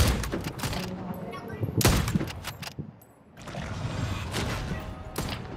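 Gunfire in the video game Vampire: The Masquerade - Bloodhunt comes in loud, rapid bursts of several shots with brief pauses between them, close and punchy, with a voice talking over part of it.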